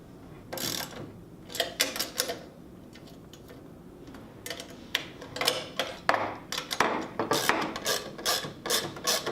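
Clicking ratchet or wrench strokes tightening fasteners during assembly of a Chapin spreader, a series of close, sharp, irregular bursts with short pauses, no talking.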